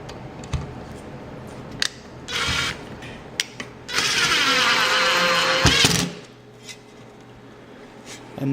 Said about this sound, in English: we're going to put one drywall screw in, because that's the one that's going to go into the stud